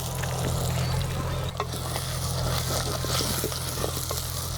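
Boiled prawn pickle is tipped into a hot pan with already fried prawns and crackles in a loud, dense sizzle that runs continuously up close, with faint stirring clicks and no talk.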